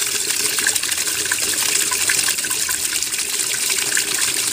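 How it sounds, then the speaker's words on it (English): A washing machine pump drains water in a strong, steady rushing gush, loud and close, with no pauses throughout. "that's pumping out the water"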